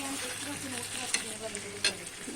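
Potato and egg curry (aloo dim kosha) sizzles loudly and steadily in a pan, a dense hiss with two brief stirring clinks partway through.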